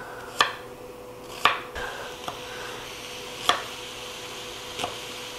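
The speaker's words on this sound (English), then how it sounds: "I'm going to go ahead and chop up my onion" A knife chops through half of a large onion on a board, with four or five distinct sharp chops spaced unevenly against a quiet kitchen background.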